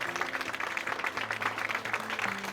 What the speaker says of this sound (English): Please give them a round of applause and welcome them